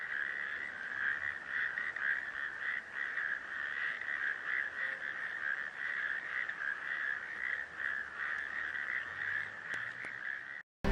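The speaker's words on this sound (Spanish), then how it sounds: "Sabemos de la presencia de especies de humedal por los cantos de las ranas y de" A dense, continuous chorus of frogs and toads calling in a wetland, a steady high trilling croak from many animals at once with no talk.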